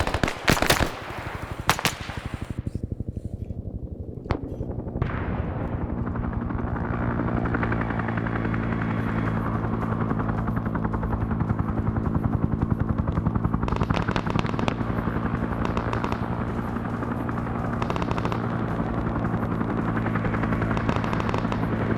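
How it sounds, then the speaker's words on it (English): A helicopter in a military video game throbs with loud rotor thumping throughout while bursts of machine-gun fire crackle around it, with sharp shots early and rapid volleys later. "Be advised, chopper is taking fire, over."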